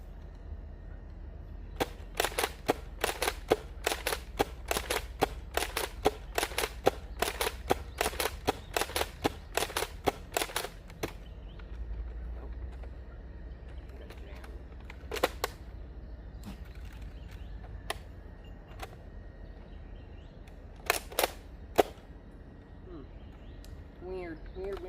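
A Nerf N-Series Infinite blaster firing foam darts outdoors: a fast run of sharp, loud snapping shots over about ten seconds, then scattered single shots and a final quick pair, with a low steady background hum.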